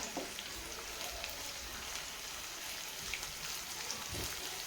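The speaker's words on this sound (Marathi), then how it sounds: "आता इथं मिरची पण मी तेलामध्ये टाकून घेतलेली आहे" Finely chopped green chillies fry in oil with onions, giving a soft, even crackling sizzle, faint and steady like light rain, with a few small pops.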